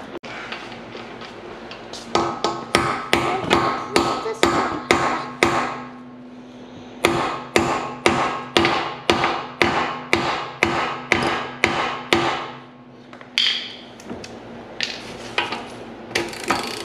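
A hammer drives a 17 mm socket into place on a Volkswagen Golf 2 GTI, ringing metallic blows in fast even runs of a dozen or more strikes, loud and close, with short pauses between runs.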